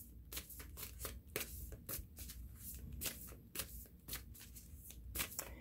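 Cards from a deck rustle and snap in quick, irregular bursts as they are shuffled and handled, faint and close with no talking.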